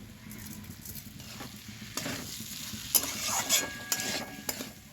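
Potatoes with sugar stirred in a frying pan: close, busy spoon scraping and patter over a steady sizzle, growing livelier toward the end, with no voices.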